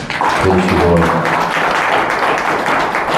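A church congregation claps for visitors, a loud, close, continuous patter of many hands, with a voice speaking over the start.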